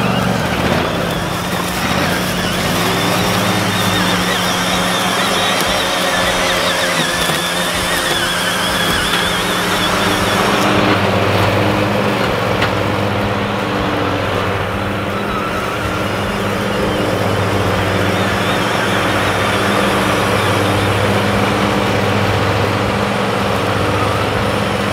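A kids' ride-on lawn mower runs while cutting grass and hay on a farm. Its engine holds a steady, close drone with a slight shift in tone partway through.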